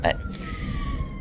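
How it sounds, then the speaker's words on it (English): An ambulance siren wails steadily in the distance, its tone slowly falling, while a person briefly speaks over it. "now you can probably hear the siren too."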